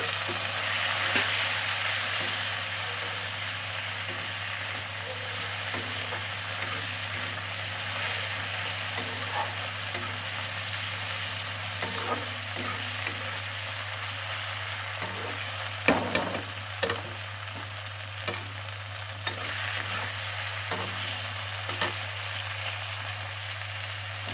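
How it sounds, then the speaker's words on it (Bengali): Chopped tomatoes fry in a pan for a fish curry with mushrooms, giving a steady broadband sizzle throughout with occasional stirring scrapes and clicks over a constant low hum. "এবার দেবো টমেটো কুচি"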